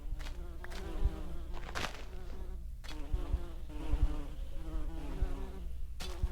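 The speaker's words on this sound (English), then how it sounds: "Oh, there are wasps in there." Wasps in the game ReIndev buzz in a dense, droning swarm, the whine rising and falling as individual insects pass close, continuous and fairly near with no talking.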